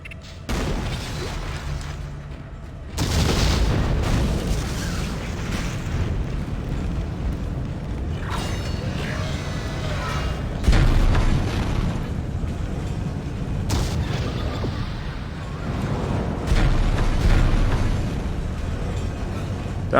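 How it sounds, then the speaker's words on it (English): Deep rumbling blasts and booms from the Dead Space video game roll through in heavy sustained waves, loud and dense, with sharp bursts and crackling debris layered over the rumble and no speech. "My God, everything's exploding."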